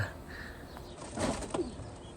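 A racing pigeon flaps its wings in a few quick bursts close by, faint and soft over a low background hiss, with a brief louder flurry near the middle.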